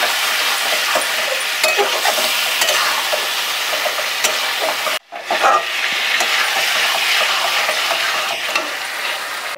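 Washed chicken pieces for a papaya chicken curry fry loudly in a pan, a dense continuous sizzle broken by one short pause before the hiss returns just as strong.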